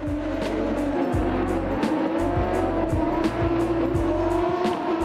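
Autocross race cars at an FIA European Autocross Championship round in Vilkyčiai roar past on a dusty track, engines droning loudly and continuously with rhythmic revving pulses and brief bursts of tire noise, no talk.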